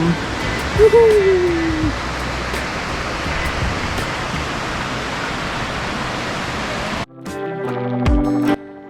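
Sea waves wash onto Khanom beach on the Gulf of Thailand in Nakhon Si Thammarat, a continuous broad rushing surf with a brief voice early on, cut off abruptly near the end by another sound.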